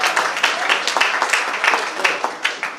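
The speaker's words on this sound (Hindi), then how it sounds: "जितने अनुपात में तालियां बज रही हैं" Audience applause at a golden jubilee ceremony, a short burst of dense clapping with uneven rhythmic peaks, close and fairly loud.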